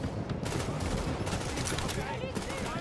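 Turret gunfire in the video game The Division: dense, continuous bursts of shots that fill the whole clip with a loud, steady barrage, while voices may be faintly present beneath it.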